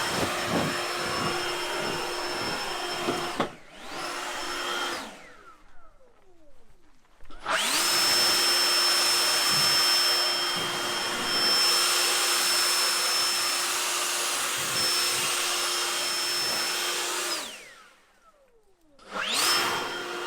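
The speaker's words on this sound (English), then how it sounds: "if we turn it on, and it's going to keep continuously running on whatever power setting you have there" A KRESS commercial battery-powered outdoor power tool runs at a steady high whine with cruise control engaged, loud and close. It spins up and down twice briefly and keeps an even, continuous drone with a faint high tone.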